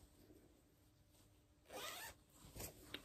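A zip on a women's dress is pulled, giving two quick, close rasping zips, the second shorter, with a tiny click at the end and no talking.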